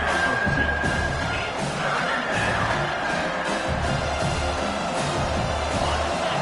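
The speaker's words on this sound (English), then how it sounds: "This crowd knows when to bring it." Stadium crowd roaring steadily in a College Football 25 video game, a continuous dense wash of cheering with no break throughout.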